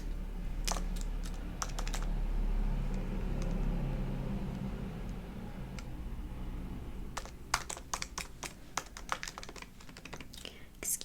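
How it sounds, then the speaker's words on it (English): Slow, one-handed typing on a computer keyboard in a quiet room, with scattered sharp key clicks in irregular clusters, sparse early on and denser toward the end, close and soft over a low hum. "Excuse my slow typing here."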